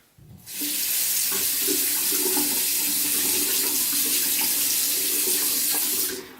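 Water pours steadily from a tap into a sink, a constant hissing splash that starts abruptly and stops near the end.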